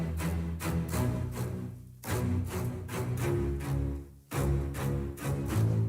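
Low string spiccatissimo patch from a sample library in FL Studio, playing rapid, tightly repeated short bowed notes in a steady driving rhythm, loud and dense, with two brief gaps where the pattern breaks before resuming.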